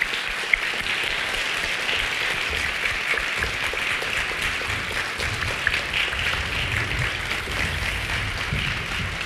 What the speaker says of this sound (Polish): Gorące brawa.